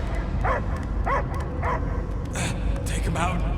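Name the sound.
dog barking in the video game Guardians of the Galaxy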